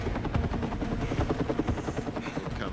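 A helicopter carrying a Jeep on a film set, its rotor thumping in a rapid, steady rhythm, loud and continuous throughout.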